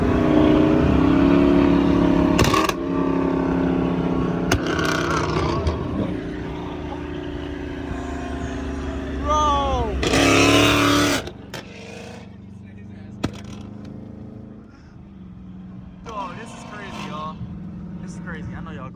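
A purple-eye Dodge Charger Hellcat's engine rumbles and revs loudly nearby with sharp bursts and swells, while people talk over it throughout.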